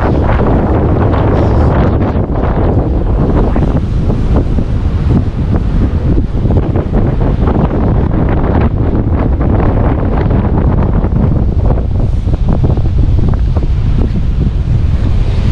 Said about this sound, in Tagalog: Parang sinasalag niya yung tubig, yung alon.